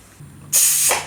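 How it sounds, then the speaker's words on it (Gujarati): A pressure cooker holding chori ringna, a Gujarati brinjal and bean curry, lets out a sudden loud, close burst of hissing steam after a short mechanical click, lasting about half a second. "બેથી ત્રણ વિસલ થવા દેવું"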